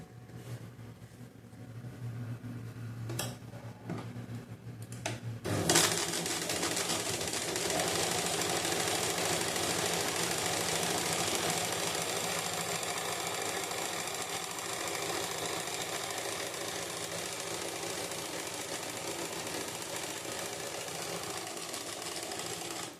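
A sewing machine stitching the back of a blouse, starting after a few seconds of quiet handling clicks into a steady, fast, close mechanical whirring run that continues to the end without talk.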